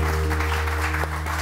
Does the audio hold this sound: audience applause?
yes